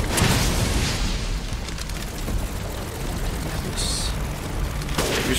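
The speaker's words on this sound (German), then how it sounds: "Das ist jetzt Blendgranate." A flashbang grenade going off in the survival horror game Resident Evil Village, a loud sustained roaring blast with dense crackling noise throughout and a brief high ringing near the end.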